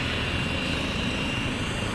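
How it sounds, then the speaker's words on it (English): A STAT medical helicopter in Monaca powers up its second engine at night for liftoff, giving a loud, steady, close turbine and rotor roar that fills the whole stretch without a break. "getting the engine 2 powered up. They're gonna be lifting off right now."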